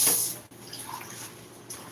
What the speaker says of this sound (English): now I'm washing my hands